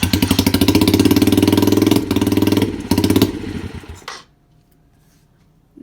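A dirt bike engine runs loud and close inside a garage, a rapid pulsing putter that sputters briefly, then cuts out to near silence before a faint noise.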